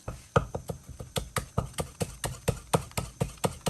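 A knife rapidly slicing scallion whites into thin strips on a cutting board: a fast, steady run of crisp, close chops at about four to five strikes per second.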